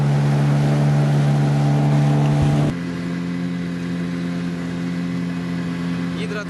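Motorboat engine droning steadily on the Oka river, a loud constant hum that drops in pitch and level partway through, with faint voices in the background.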